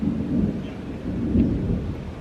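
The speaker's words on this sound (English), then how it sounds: "Oh, it's about to storm." A low rumble of thunder as a storm approaches, steady and fairly loud with a faint rain-like hiss, no voices.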